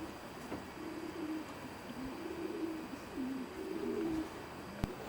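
Racing pigeons coo softly in a loft, low rolling calls repeating in a loose rhythm. A faint hum sits beneath them and a single sharp knock comes near the end.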